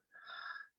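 A single deep inhale during a breathing exercise, a faint airy wheezing draw of breath lasting under a second, close and alone.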